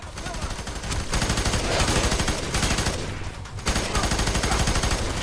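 Rapid automatic gunfire in the video game Fear 3, a loud sustained burst of repeated shots with brief gaps, dense and close throughout.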